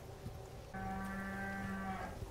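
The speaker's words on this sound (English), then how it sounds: "I heard a cow." A cow moos in Resident Evil 4 with one long, steady, low, tonal call of about a second, clear over quiet ambient background.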